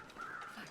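A single crow gives a short, faint caw in The Long Dark, heard at a distance in quiet surroundings.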